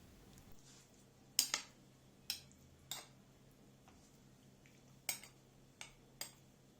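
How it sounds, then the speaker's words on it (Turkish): A metal spoon clinks and taps inside glass jars as food is pressed down to push out trapped air, giving about eight short, sharp knocks at uneven intervals, close by in an otherwise quiet kitchen. "Kaşıkla aralara giriyorum ve üzerine bastırıyorum."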